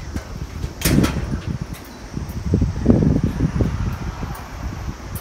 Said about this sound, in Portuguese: O vento até que tá, não tá ruim, né?